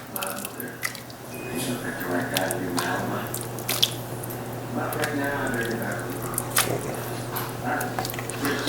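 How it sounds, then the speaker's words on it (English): Simmering liquid is scooped out of a pan while making Swiss steak: wet, squishy dripping and sloshing sounds, close and steady, with a bubbling undertone and a few sharper clinks, under someone talking. "Take out a couple scoops of this liquid and everything."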